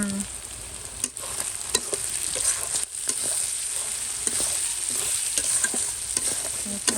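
Onions sizzle in a hot pan while a utensil stirs them, a steady crackling fry broken by repeated scraping strokes, close and alone with no talking.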